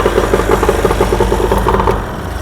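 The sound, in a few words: small fishing boat outboard engine started and running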